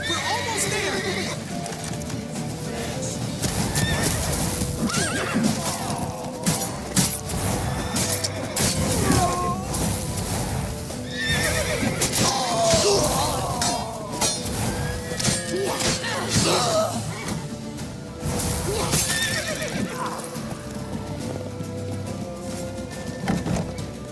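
Horses whinny and hooves pound in The Witcher 3: Wild Hunt, with crashes and shouting voices layered through a dense, loud, continuous game battle scene.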